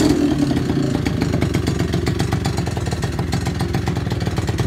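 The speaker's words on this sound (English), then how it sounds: "Idling a little bit low right now." An oil-injected E-TON Viper 70 two-stroke engine idles slightly low, giving a steady, loud, close-up putter with a fast, even pulse and a clattery edge. No talking is heard.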